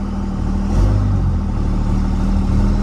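A dually pickup truck with a lifted body revs its engine while a tire spins, giving a loud steady engine drone and low rumble that swells briefly near the start.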